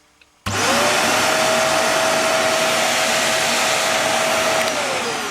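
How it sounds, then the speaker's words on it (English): Morphy Richards 73415 Shark Lift Away vacuum cleaner starting up with its power head engaged alongside suction: a loud, steady whooshing roar with a sustained motor whine, holding constant after a sudden start. "let's see what it's like with the power head going as well as suction."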